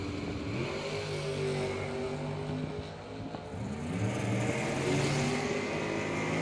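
A 1966 Chevy II and a Dakota launch side by side at a drag strip, engines roaring and revving together in a loud, sustained, rising drone that dips briefly and then swells again.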